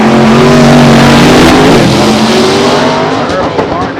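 A turbocharged small-tire drag race car builds boost and launches hard at the drag strip, a loud, sustained engine roar rising in pitch, with crowd and commentary noise underneath.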